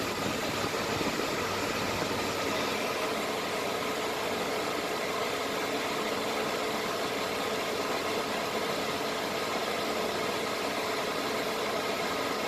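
A portable air conditioner runs steadily, giving a loud, unbroken hum and rushing blow of air with no change across the whole stretch and no one speaking.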